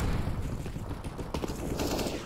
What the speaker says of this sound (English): Don't want anything to do with that stream of gunfire coming through the smoke.